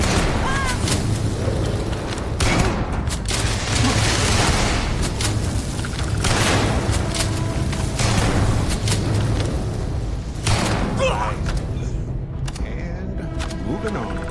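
Heavy gunfire and booming blasts crash through a Starfield firefight, with dense overlapping shots and explosions rolling continuously for the whole stretch, loud and close, while voices speak over the combat.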